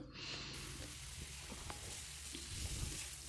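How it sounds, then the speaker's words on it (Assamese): Steady, close sizzling of pork frying in a pan with turmeric and red chili powder, a dense crackling hiss that runs throughout with faint scraping of stirring. "এয়া মাংসখিনি অলপ লৰাই অলপ এনেকৈ ভাজি ল'ম"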